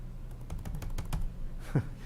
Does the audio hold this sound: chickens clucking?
no